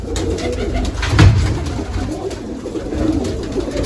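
Pigeons coo nearby in low, throaty murmurs, one louder coo rising above a soft, continuous burble of others.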